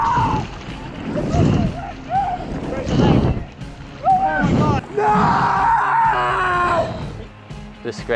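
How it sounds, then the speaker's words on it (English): Screams from a surfer injured at Cloudbreak after being caught in the lip of a wave, loud anguished cries rising and breaking repeatedly over about eight seconds near a boat, with agitated voices around them. "The screams were just terrible to hear."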